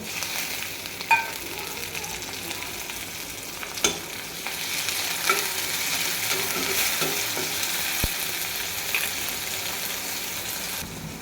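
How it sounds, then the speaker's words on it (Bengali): Onions fry in a pan with a dense, continuous sizzle, and several sharp stirring clicks and scrapes are scattered throughout. "পেঁয়াজ ভাজা ভাজা করে নিয়েছি ভালো করে নাড়াচাড়া করে ভাজা ভাজা"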